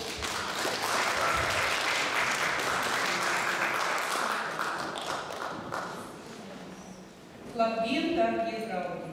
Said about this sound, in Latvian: Aplausus!